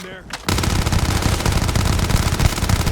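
Rapid automatic gunfire in the Starfield video game, a loud continuous burst of close shots after a brief quiet start, running without pause to the end.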